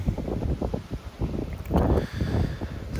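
Cold, strong wind at St Kilda beach buffets the microphone with continuous low rumbling gusts, swelling louder near the middle of the stretch, with no voices.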